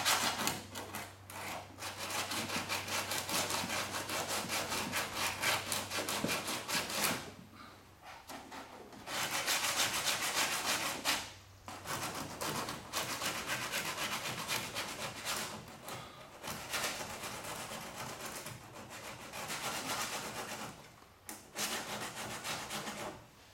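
Coarse 40-grit sandpaper rubs hard over Bondo body filler on a 1976 Trans Am, steady gritty scraping strokes running nearly continuously up close, broken by a few short pauses, with no one talking.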